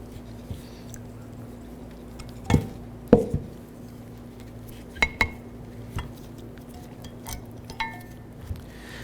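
Old brake pads being worked out of the caliper bracket on a 2004-2009 Dodge Durango: a handful of sharp metallic clinks and knocks, spaced irregularly, over a steady low hum, with no talking.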